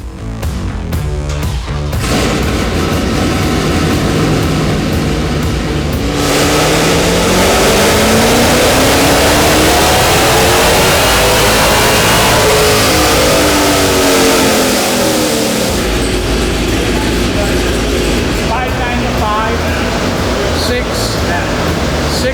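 Mustang race car engine revs hard through a run, a loud sustained roar rising and falling in pitch with a sweeping acceleration in the middle, voices briefly audible at the edges.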